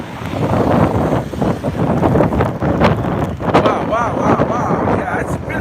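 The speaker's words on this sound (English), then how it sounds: "it's really windy right now" Strong wind during a New York City windstorm buffets the microphone in loud, continuous rumbling gusts, with faint voices briefly mixed in.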